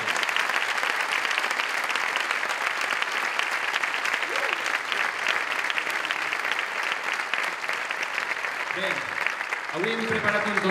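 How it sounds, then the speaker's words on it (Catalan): Concert audience applauding a university big band at a May 2014 show, a dense, steady wash of clapping that fills the whole stretch, with a voice breaking in briefly near the end. "un fort aplaudiment per aquesta magnífica banda que tenim ací a l'UFIC."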